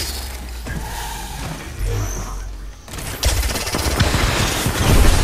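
Alternator submachine gun fire in the shooter game Apex Legends. Rapid, loud bursts of automatic gunfire come with mechanical clatter and a brief lull, then build into heavier, sustained firing near the end.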